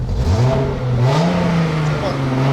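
A car engine with a burnt-through exhaust revs with a rough, raspy drone, the pitch rising and falling through a couple of throttle blips, close by.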